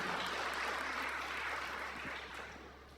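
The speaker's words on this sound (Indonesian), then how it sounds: "Beri tepuk tangan." A church congregation claps during a Christian sermon, producing a continuous, even wash of many hands at moderate level that tapers off near the end, with a low steady hum beneath.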